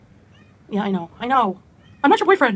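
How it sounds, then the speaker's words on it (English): Pet cat meows in a car on the way to the vet, with a few drawn-out, whiny cries close by, followed by a person talking. "You might hear my cat meowing."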